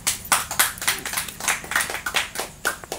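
A handful of people in the audience at an Islamic boarding school (pesantren) talk clap in separate, slightly uneven claps, distinct and close, over about three seconds.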